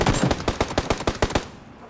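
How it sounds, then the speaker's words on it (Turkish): Rapid automatic gunfire in PlayerUnknown's Battlegrounds, roughly a dozen sharp, loud shots in a fast, even burst, then a short fading tail after the burst ends. "Adam beni vurdu bak."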